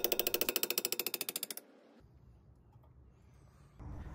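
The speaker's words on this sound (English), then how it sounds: "Just like the front, we'll use percussion to break these bolts loose gently." Hammer taps on a DeLorean's rear brake bolts to knock them loose, a fast even run of about twenty sharp metallic strikes in the first second and a half, then quiet workshop background and a brief rumble near the end.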